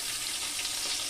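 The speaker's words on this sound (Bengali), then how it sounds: "আলুটাকেও আমি একটু ভেজে নেব ডিমের সঙ্গে" Eggs and a boiled potato fry in a pan, giving a steady, close hiss of sizzling oil that holds at an even level throughout, with no voices.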